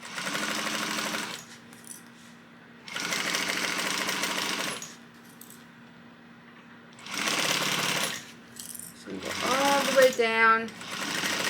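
A sewing machine stitches a crossbody bag seam at a 3/8 inch seam allowance, running in several fast, steady buzzing bursts separated by pauses. Someone talks over parts of it, and a short whining back-stitch closes the sequence.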